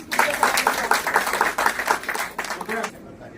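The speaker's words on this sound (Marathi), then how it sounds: "तुमच्या सगळ्यांसाठी मध्यवर्तीने टाळ्या वाजवून" An audience applauds at a Bal Rangbhoomi Parishad gathering in Matunga, Mumbai, marking a folk art festival. Dense, lively clapping fills about three seconds, then cuts off quickly into near silence.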